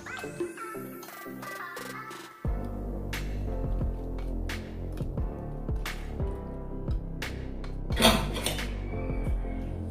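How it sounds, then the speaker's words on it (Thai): A spoon stirs and clinks repeatedly against a bowl, dissolving a lime juice dressing for a spicy stuffed-egg salad, with bright metallic taps over a faint liquid swish, close and clear. "มะนาวนะคะ คนให้ละลายนะคะ"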